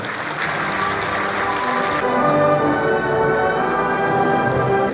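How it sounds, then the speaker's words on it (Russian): Applause at an awards ceremony for the FC Belshina football champions, a steady, loud wall of clapping from a hall audience that holds evenly throughout, its sharp upper edge dulling partway through. "Ваши аплодисменты"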